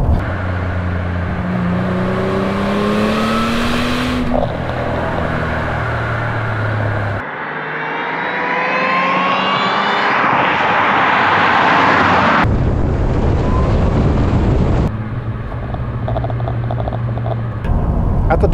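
A Ford Thunderbird Super Coupe with an Eaton-supercharged 3.8 liter V6, about thirty years old and prone to breaking down, is heard loudly in several cut segments of idling, rising revs and a whining acceleration sweep.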